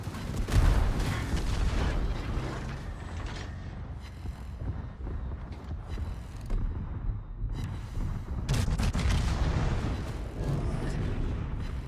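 Secondary guns of a warship fire in World of Warships, producing a series of deep booming shots and rumbling blasts in irregular bursts, with the heaviest volleys near the start and again toward the end.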